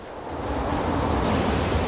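Strong wind sweeps across a 150-metre suspension footbridge hung more than 60 metres above the Deschankola river on a trek from Lo Manthang, a steady, loud, close roar of gusting air with no voices.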